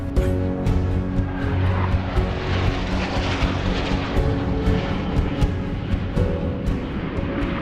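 Steady, loud airplane engine drone from inside a passenger plane on a long flight to Nice, France, a dense continuous roar with a low hum running through it and no talking.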